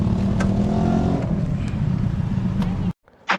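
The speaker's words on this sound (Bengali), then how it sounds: "ওখানে স্পিডবোট হচ্ছিল।" A speedboat engine droning steadily on water, loud and close with a low rumbling roar that suddenly cuts off near the end, followed by a brief thump.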